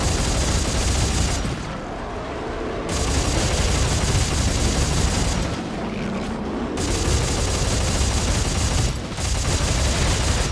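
Gunfire against enemies in the sci-fi horror game Dead Space 3 goes on through most of the clip, with dense, loud bursts of shots broken by two short pauses.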